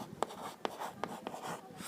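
Pen writing out a Class 10 math solution on paper, a few short scratchy strokes spaced about every half second, close and quiet, with no talking.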